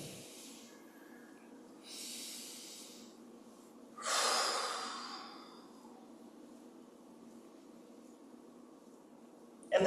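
Deep breaths during a qigong session, with soft broadband exhale bursts near and clear, one stronger breath standing out midway amid quiet room tone.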